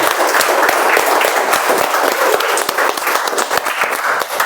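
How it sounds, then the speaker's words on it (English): A room full of people at a Toastmasters speech contest award ceremony gives loud, sustained applause, many hands clapping densely and continuously from start to finish. "A huge round of applause for them."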